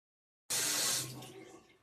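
Water gushes loudly from a tap into a bathtub being filled for a bath, a bright hiss starting abruptly and then settling into a softer, steady running flow with a low rumble beneath.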